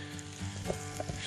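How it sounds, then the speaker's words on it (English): Chicken sizzles and crackles in a pan on an old wood stove pulled from a remote trapping cabin, a continuous close frying hiss dotted with small pops. "Just cooking on the stove that we pulled out of the cabin"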